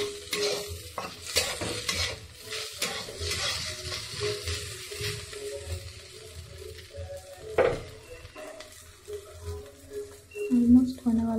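Okra (bhindi) frying in a kadai while being stirred, uneven bursts of sizzling and scraping with occasional metallic clinks of the spatula, close and fairly loud, with a voice briefly heard.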